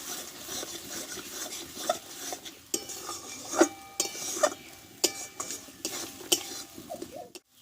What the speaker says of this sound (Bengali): দেখো মশলাটা আমি ভালোভাবে কষে নেব একটু টাইম করে